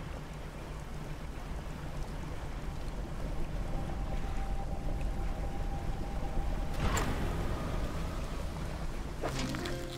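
Steady low boat motor drone in the fishing video game Dredge, a continuous near hum with faint watery texture and a couple of brief brighter swells, no talk.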